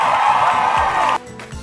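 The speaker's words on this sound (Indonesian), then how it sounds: "Oke, beri tepuk tangannya." Audience applause breaks out in a classroom-style gathering, a dense, steady wash of clapping mixed with a few cheers that holds for about a second before cutting off abruptly.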